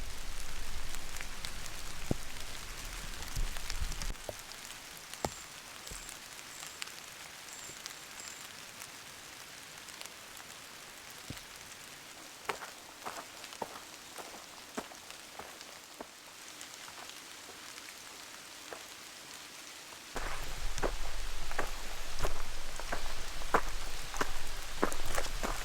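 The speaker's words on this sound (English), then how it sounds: "My rain jacket is raining pretty hard now" Heavy rain falls steadily on a backpacking trail along the Mogollon Rim, a broad continuous hiss with scattered sharp drop patters. The rain grows louder near the end.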